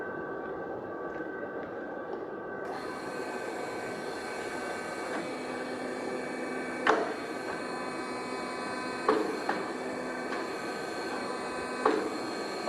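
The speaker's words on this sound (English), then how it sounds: "now let's see how easy it is to lift using hydraulic power" Hydraulic power lifting a heavy load in a mechatronics teaching lab, a steady whining mechanical hum that rises in pitch once the pump starts, with a few brief clunks and thumps over the top and no talking.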